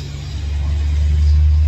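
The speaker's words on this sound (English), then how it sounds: "there's a lot of trucks going by our house all day" Trucks drive past a house, heard from inside an open garage as a steady low engine rumble that swells louder as a vehicle approaches, with no talking.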